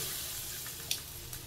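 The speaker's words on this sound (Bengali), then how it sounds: "জলটা দিয়ে দেবো" Water pours into a pan of simmering spiced fish curry, a faint steady rushing trickle close by with a couple of soft splashes near the end, no voices.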